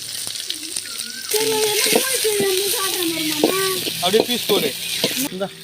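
Onion with cinnamon and bay leaf goes into oil for chicken gravy on a wood-fired stove and sizzles steadily at close range. A voice talks over it in a home kitchen, and a louder hiss starts as the ingredients hit the pan.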